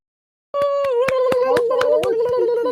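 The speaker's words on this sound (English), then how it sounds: "Everybody give a round of applause for Thena the Dragon and her wonderful DMing" Hands clap in a regular rhythm, about a dozen crisp claps close by over a sustained tonal hum, beginning suddenly after a brief silence.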